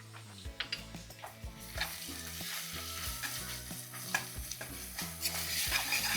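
Onions with ginger garlic paste frying and being stirred in a pan for chicken pulao: steady close sizzling with repeated scraping stir strokes and light utensil knocks throughout.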